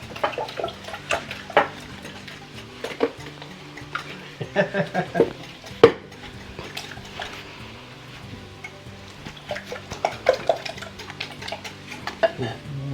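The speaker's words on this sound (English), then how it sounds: "We're going to scramble some eggs and make up some sausage." Eggs being scrambled in a pan for a breakfast with sausage make irregular clinks, scrapes and clatter of utensils against cookware, spread through the clip at close range.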